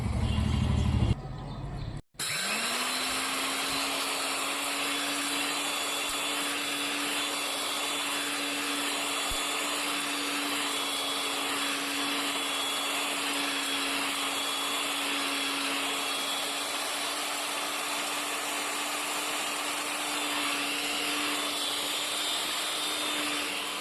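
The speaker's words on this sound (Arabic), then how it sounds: "تعالوا بقى نطحنها ونشوف شكلها عامل ازاي" Electric spice grinder milling a tagine spice blend: a loud, steady motor whine after a brief start, running continuously and close for over twenty seconds, no talk.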